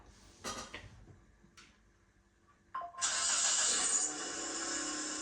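A few clicks and knocks, then a car engine sound effect played from a phone cranks and starts, revving loudly before settling into a steady idle.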